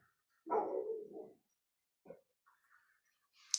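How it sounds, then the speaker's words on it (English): A dog barks outdoors, one loud, rough bark at a distance followed by a brief, fainter yelp, with quiet gaps and no talking. "she just barked outside as soon as I said guardian."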